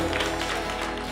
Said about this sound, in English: Let's give a big clap and worship him